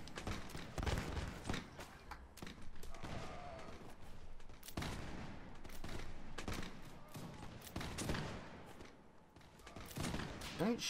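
Mount&Blade battle gunfire with Napoleonic-era muskets, a steady crackle of many overlapping shots, some loud and near, others distant, forming an almost continuous fusillade.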